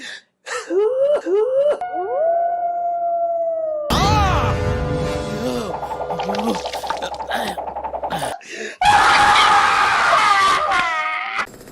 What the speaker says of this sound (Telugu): ఎందుకు అలా అరుస్తున్నావు?